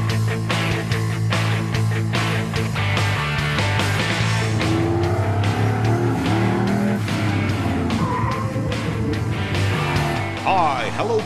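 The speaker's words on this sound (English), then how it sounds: "kepulan asap dan juga raungan mesin menjadi sajian utama event seru yang satu ini" Engines roar and tires squeal through smoky burnouts at a night Street Machine National 2015 horsepower party, a loud continuous mechanical wash with revving surges, under an announcer and crowd voices throughout.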